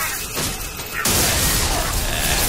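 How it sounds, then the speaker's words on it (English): Video game explosions burst out in a dense, loud roar, starting muffled and then surging into a sustained blast of booms and crackling rubble with no voices over it. "There's explosions everywhere"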